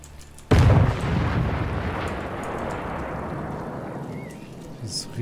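A single heavy boom from a huge artillery gun in Sniper Elite 5 bursts out after a brief lull, followed by a long rumbling roll that slowly fades, with faint voices underneath.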